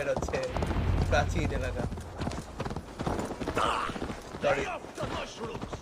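Horse hooves clip-clop at a steady walking rhythm in Assassin's Creed Valhalla, close and fairly loud, with a voice talking over them and some background music.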